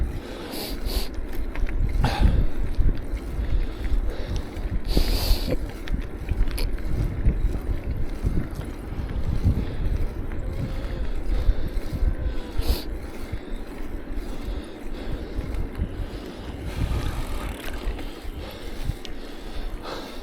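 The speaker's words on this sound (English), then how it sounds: "right now the wind is kind of against me too" A headwind roars against the microphone as a cyclist rides uphill in Korea, loud, steady low-frequency buffeting that swells in gusts, with no talking.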